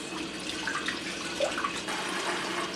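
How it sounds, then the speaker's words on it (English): A kitchen towel is dunked in hot water at a sink while bread is being made. Soft running and splashing water swirls steadily at a moderate distance, with small gurgles and drips and no talking. "I'm dunking the towel in hot water and then I'm wringing it out as much as I can"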